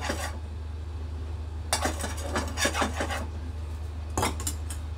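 Ghee being spread across a dosa pan on a gas stove: soft scraping and metallic rubbing strokes in a few short bursts, close and clear over a steady low hum.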